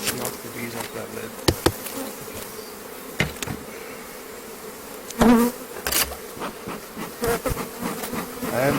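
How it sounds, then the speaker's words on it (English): Honey bees swarm and buzz in a steady drone around an opened hive of a super colony during an inspection, with a few sharp knocks and thuds as a lid is tapped to shake the bees off. "Knock the bees off that lid."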